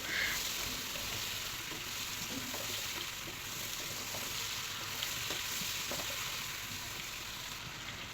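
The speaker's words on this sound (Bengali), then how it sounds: "এখন আমগুলোকে আমি এই লবণ, হলুদ আর তেলের মিশ্রণে কিছুক্ষণ ভেজে নেব।" Cut mango pieces frying in oil with salt and turmeric for a pickle, a steady hissing sizzle with occasional small pops and stirring taps, close and even throughout, no voices.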